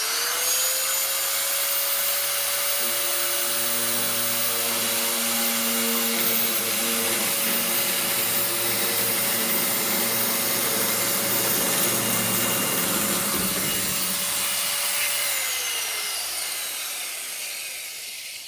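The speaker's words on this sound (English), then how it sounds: "Now for a real-world test, I need to cut some of this galvanized metal lathe for some concrete wall repairs I'm doing." A vintage 1980 AEG KS1.6 electric sheet metal shear cutting galvanized metal lath, a steady loud motor whine with a continuous chattering cut running about fifteen seconds before winding down.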